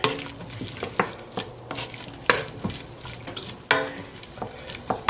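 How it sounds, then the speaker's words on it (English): Tomato paste cooks in a soup pot with a steady sizzle and sharp utensil scrapes and clinks at irregular intervals, close and fairly loud, with no one speaking. "a tablespoon of tomato paste. Get that in there and let it cook."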